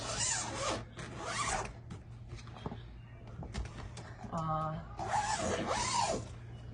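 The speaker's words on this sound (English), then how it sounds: "these unzip" Old curtains in a 1994 Skamper camper are unzipped close by, several raspy zipper pulls in short bursts, with a person talking over parts of it.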